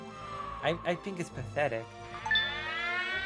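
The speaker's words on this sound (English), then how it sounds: "I have this thing on my phone that warns when there's an air siren, and it just went off." A phone app sounds an air raid siren alert: a thin, tonal electronic wail with a rising sweep breaks in right after a man's brief spoken remark and carries on to the end.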